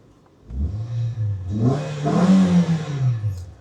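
A 2018 Toyota Sienta's 1.5-litre engine revs up from idle, rising in pitch and loudness with a whirring, slightly clattery tone, close by.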